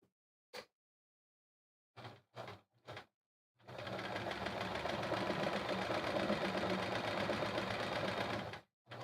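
Sewing machine running steadily through free motion quilting on ABC stitch-along blocks, a loud continuous whir for about five seconds after a few short taps and bursts, then stopping.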